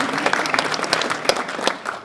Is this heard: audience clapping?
yes